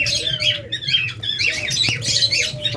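A pair of pet lovebirds or budgerigars at a bird seller's squawks close by in repeated harsh, raspy bursts mixed with short chirps, with no talk.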